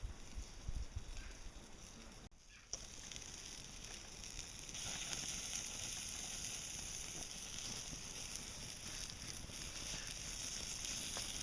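Sausages frying outdoors, a faint continuous hiss and crackle of sizzling fat with a brief dropout early on, steady and low in level throughout.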